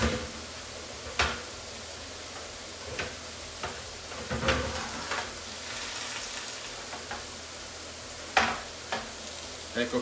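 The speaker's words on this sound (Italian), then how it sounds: "poi friggiamo le melanzane, semplice semplice." Aubergines sizzle and fry in a pan in a home kitchen, giving a steady close crackle with occasional louder pops and stirring clicks, and no one speaks.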